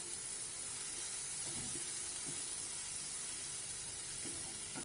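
Coconut and mint powder sautéing in a hot pan for instant vada curry, a steady soft sizzle and hiss running throughout, with a few faint scraping stirs.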